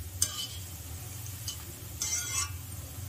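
Kal kal (madai biscuit) dough fries in hot oil, a soft steady sizzle under a few quick stirring scrapes and light clinks of a spoon against the pan, close and fairly quiet.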